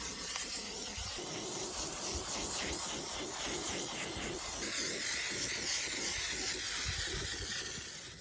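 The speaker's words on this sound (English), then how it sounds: "Just give the can a good old shake and spray on." Continuous hissing spray from an aerosol can of Peel Tec, steady and fairly soft, lasting several seconds without pause.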